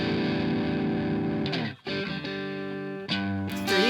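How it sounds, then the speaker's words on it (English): Electric guitar played through a Boss DS-1 distortion pedal set to a thick overdrive tone, sustained distorted chords ringing loud and close with a brief choked gap and new chords struck after it. "made that sound pretty much like a really nice, thick, creamy overdrive"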